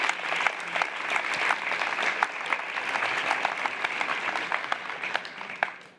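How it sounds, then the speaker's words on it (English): A conference audience claps through a closing show, dense and steady for about six seconds, heard from the room at moderate distance with no voices over it. "Let's give them a big round of applause."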